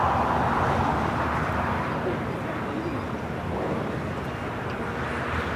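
A jet airliner takes off at LAX with a broad, steady engine roar heard from a distance, blending with wind and traffic noise throughout.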